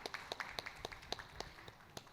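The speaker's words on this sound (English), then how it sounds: "This deserves a round of applause." A sparse round of hand claps from a small audience at a business conference, faint and distant, with individual claps spaced irregularly over a couple of seconds.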